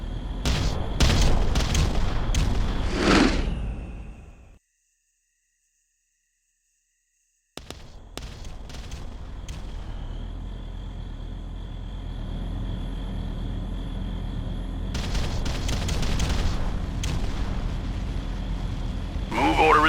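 Artillery bombardment in the strategy game Ground Control produces heavy, booming explosions in rapid bursts, then a short silence and a steady rumbling bed with more blasts later, along with game voice lines.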